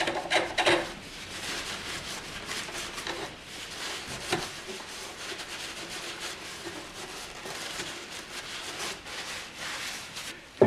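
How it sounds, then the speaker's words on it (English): Old grease is scrubbed off parts of a Sony reel-to-reel tape recorder with repeated scraping, rubbing strokes, close and fairly steady, with occasional small knocks of handling. "Let's clean all this old grease off."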